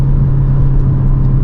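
Ford Focus RS MK3 engine under hard acceleration, a loud, steady low-pitched drone with a strong rumbling hum held close for the whole short moment, no voices.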